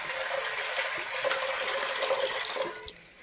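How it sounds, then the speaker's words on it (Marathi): Water pours into a large cooking pot for a lemon pickle recipe, a continuous splashing fill that runs steadily for a few seconds before tapering off. "एका मोठ्या पातेल्यामध्ये पाणी टाकून घेतलेलं आहे"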